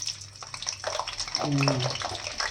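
Broad beans dropped into hot oil in a pan over a medium flame give a steady, close sizzle and crackle that swells midway, with someone speaking over it.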